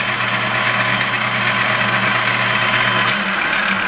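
An ENCO 12x36 inch metal lathe runs steadily with a continuous motor hum and mechanical whir, loud and close throughout, without talk.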